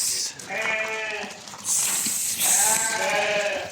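Young Tatalilar breed ewes bleat in a flock, several overlapping bleats rising and falling close by in quick succession, with faint background noise between calls.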